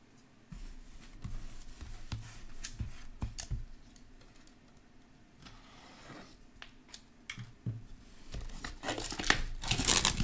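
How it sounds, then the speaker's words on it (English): Basketball trading card box packaging being opened close by, with crinkling plastic, tearing and scattered clicks and rustles that grow busier and louder toward the end. "The box has been opened."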